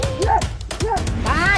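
A dog in a dramatized scene gives a few short, sharp yelping barks in quick succession, loud and close, with a voice present alongside.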